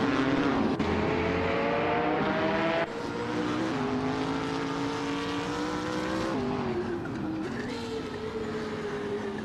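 A 2019 BMW M8 GT race car's engine drones steadily in a racing video game, holding a sustained high-revving tone that shifts pitch at gear changes, loud and continuous with no talk over it.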